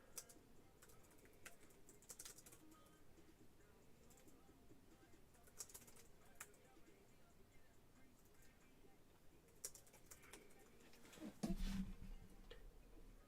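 Rapid, irregular clicking of keys being typed on a computer keyboard, fairly close and continuous, with a few louder clacks and a soft thump near the end.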